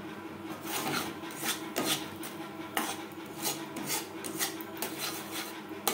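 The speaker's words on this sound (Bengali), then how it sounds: "ব্রাউন কালার আসা পর্যন্ত নাড়াচাড়া করে নেব" A utensil scrapes and rasps steadily against a pan as sugar melts into caramel over a low gas flame, a continuous close stirring sound with small irregular strokes, quiet and without voices.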